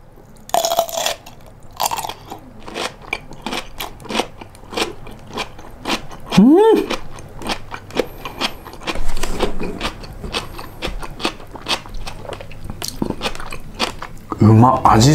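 Close, crunchy chewing of a smashed cucumber snack, a quick salted appetizer: repeated sharp, wet crunches and bites in irregular rhythm, with someone talking in between mouthfuls.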